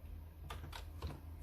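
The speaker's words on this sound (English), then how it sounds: "So I'm just gonna have a look at my computer. Let's type this in." A few quick keystrokes on a computer keyboard, close but soft, three or four light clicks over a low steady background hum.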